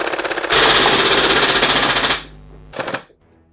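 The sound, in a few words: Nerf Rapid Fire blaster rapidly shooting foam darts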